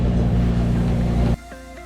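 A sailboat's engine drones steadily while motoring on a calm sea, a loud low rumble that cuts off abruptly near the end, leaving a quieter background.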